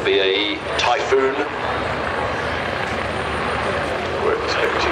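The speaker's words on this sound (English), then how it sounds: "The helicopters are now lifted. They will go off down to the west." Helicopters lift off at the Farnborough airshow, a broad, loud rotor and engine roar filling the air, with faint rhythmic blade chop in the wash.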